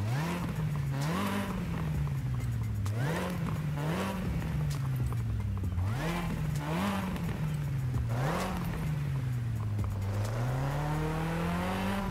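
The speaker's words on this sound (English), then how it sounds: "you'll hear like an intake sound right before the engine intakes" A racing car engine in Forza Horizon 5 with a stock intake revs up repeatedly in a steady rhythm, pitch climbing and dropping with each gear change, with a faint intake whoosh before the revs.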